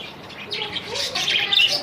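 Australian budgie parakeets chirp in a cage, with rapid high twittering and warbling calls that grow busier and louder over a couple of seconds, close by and with no talk.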